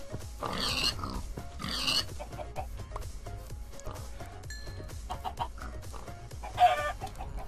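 Pigs and chickens in the video game Minecraft, scattered grunts and clucks repeating at moderate distance over faint game ambience, with one sharper call near the end.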